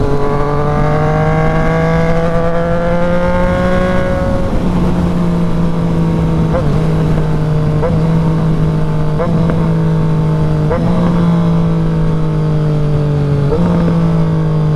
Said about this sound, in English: the most like satisfying quick shifter and auto blipper that I've ever used